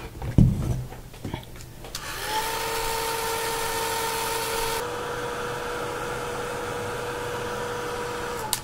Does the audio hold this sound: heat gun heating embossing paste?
yes